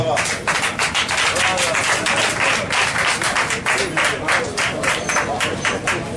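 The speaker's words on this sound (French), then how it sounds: "On peut applaudir." A church audience at a French-language question-and-answer session claps steadily for about six seconds, a dense, loud burst of applause from many hands with no one speaking over it.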